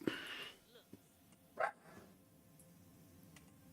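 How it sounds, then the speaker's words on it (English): A dog barks a couple of times in the background, short faint yaps in separate bursts at the start and midway, with quiet room noise between them. "Can you hear my adorable dog barking?"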